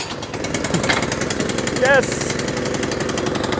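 A Briggs and Stratton snow blower engine, pull-started, runs nearby with a loud, fast, steady chugging putter throughout. A person briefly shouts partway through.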